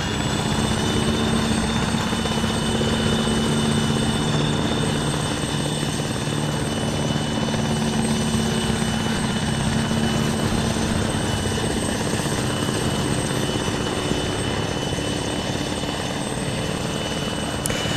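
Several military helicopters take off one after another in Arma 3 during a Ukrainian air assault across the Dnipro River, a loud, steady rotor and turbine drone that holds for the whole stretch with no talking.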